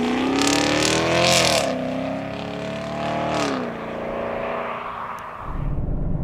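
A 2017 Chevrolet Camaro SS's small-block V8 engine revs up hard with rising harmonics, surges twice, then settles to a steady drone before a rougher low rumble takes over near the end.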